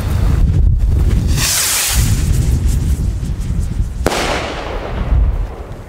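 Cafferata Mad Dog Thunder salute rockets explode outdoors, loud booming bursts and crackling blasts with a sharp bang near the four-second mark, heavy wind rumble buffeting the microphone throughout.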